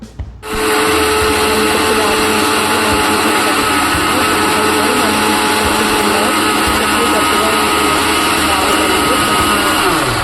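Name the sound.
mixer grinder grinding chutney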